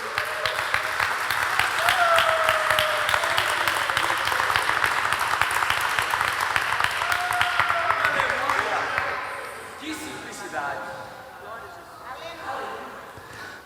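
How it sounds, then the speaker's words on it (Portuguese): A church congregation applauds during a worship service, sustained clapping running for several seconds under a speaking voice and background tones, then thinning out and fading toward the end. "Pode aplaudir a palavra de Deus mesmo."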